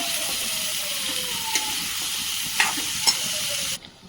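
Tomatoes cook over low heat in a pan while being stirred, giving a steady hiss with a few scraping knocks of the spoon before the sound cuts off at the end. No one speaks.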